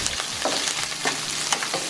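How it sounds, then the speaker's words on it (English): Red snapper fillets fry in a pan over moderate heat, a steady close sizzle and crackle of hot oil with small popping bursts, heard alone without talking. "Whenever you're frying fish, always make sure that your heat is not very high"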